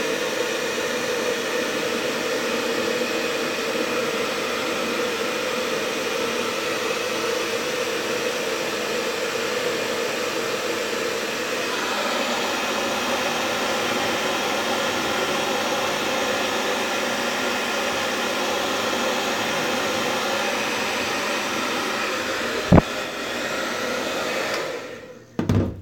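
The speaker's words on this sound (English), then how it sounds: "Here's hair dryer, heat up my hands, warm it up a little bit." A hair dryer blows continuously and loudly close by as it warms hands and mustache wax, a steady whooshing hum whose tone shifts slightly midway before it cuts off near the end with a couple of handling clicks.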